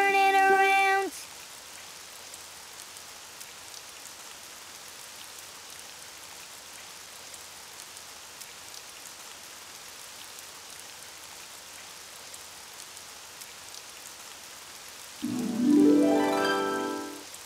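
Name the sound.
rain falling outside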